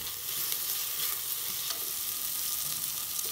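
Broken wheat daliya sizzles steadily in a pan with green chillies, ginger and garlic, giving a constant close crackling hiss with faint stirring underneath and no voices.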